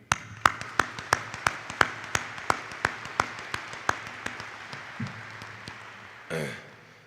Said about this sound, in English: how about a big round of applause for those families